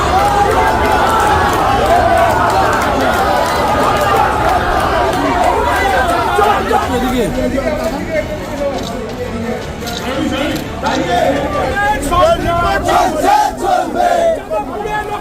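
A large crowd of rival BJP and TMC supporters shouts slogans and counter-slogans in front of a district magistrate's office during a nomination filing, a dense continuous roar of overlapping voices that holds loud for the whole stretch.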